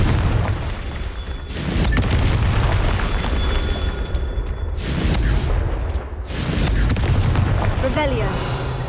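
Confringo blasting spell explosions in a Harry Potter video game, several booming bursts with rumbling tails in quick succession, loud and close among game effects, with a voice calling out between blasts.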